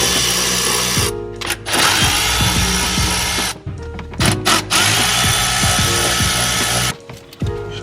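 Power tool, likely a drill or driver, backing three Phillips screws out of a car seat cover, running in loud whirring bursts with brief pauses between them, close and alone with no talk.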